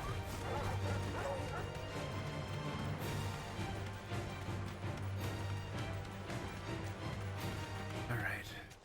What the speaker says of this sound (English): Pack of dogs.